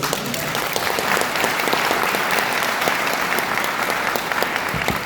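An audience at a seminar lecture held in an Air Force hotel claps together in a sustained, dense round of applause that stays steady throughout, with no speech over it.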